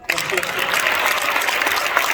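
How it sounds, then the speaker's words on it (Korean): Guests at a Korean church federation leader's inauguration applaud to welcome National Assembly members, a continuous crowd clapping that starts abruptly and holds steady while a voice speaks over it. "우리 박수로 환영합니다."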